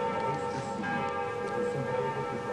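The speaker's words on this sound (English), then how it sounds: "The best part was the bells of Notre Dame." The church bells of Notre Dame in Paris ring out, a sustained, resonant toll with layered tones hanging steadily over a couple of seconds, with no one talking.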